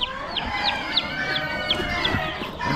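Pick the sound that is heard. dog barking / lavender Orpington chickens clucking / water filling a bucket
lavender Orpington chickens clucking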